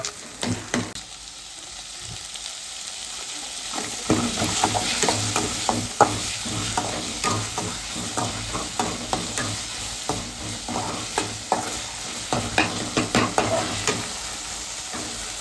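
Masala sautés in a pan while a spatula stirs and scrapes it in a steady run of sharp strokes over continuous sizzling. The sound is close and carries no speech.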